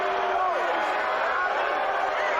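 Arena crowd at a Brock Badgers vs Laurier Golden Hawks playoff basketball game booing the referees, a steady loud roar of voices filling the hall without a break.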